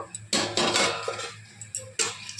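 A lid clatters onto a cooking pot holding simmering eggplant, with several metallic clinks and knocks of pot and lid, close and clear, between brief pauses.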